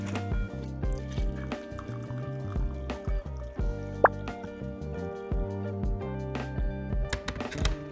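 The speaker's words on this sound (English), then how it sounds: "So with this water, I'm gonna bloom my chasen, which means just soaking it in the hot water for a couple minutes" Hot water poured into a thick cup to soak a bamboo chasen matcha whisk, a steady liquid trickle with scattered drips against a constant background.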